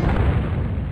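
Explosions strike targets in the flight combat game Fighters Anthology, a single loud, dense boom that holds as a heavy low roar for about a second.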